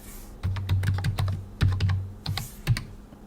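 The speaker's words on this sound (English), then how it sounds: "And type in the password." Password keys typed on a computer keyboard while setting up an AlmaLinux install, a quick run of close, crisp clicks in uneven bursts with short pauses between.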